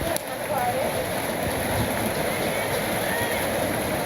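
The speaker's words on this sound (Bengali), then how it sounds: "তো এই যে দেখেন বিকেল বেলা বৃষ্টি নামছে" Afternoon rain falls in a village, a dense, steady patter on surfaces that holds at an even, fairly loud level throughout with no pauses.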